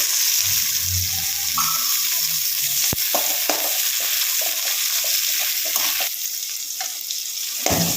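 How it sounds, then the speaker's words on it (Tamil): Garlic cloves sautéing in oil in a pan for a coriander chutney, a steady bright sizzle running the whole time, broken by spoon stirs and a few clinks of utensils, close and fairly loud with no talking. "தேவையான அளவு எண்ணெய் ஊற்றி வணக்கிக்கலாங்க."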